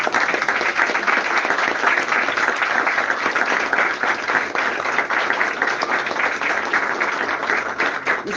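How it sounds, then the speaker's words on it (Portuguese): Dense, sustained applause from a large church congregation fills the space, many hands clapping steadily and loudly without a break. "As palmas."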